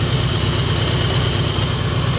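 A 2004 Harley-Davidson Softail Deuce with chrome exhaust idles steadily, a low, throbbing engine rumble close by and constant throughout, with no talking.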